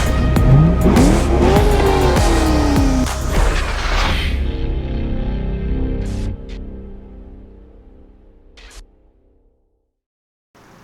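A modified C5 Corvette, made louder, roars through hard revs with rising and falling engine pitch and a squealing edge, loud and close, then winds down to idle before the sound cuts off.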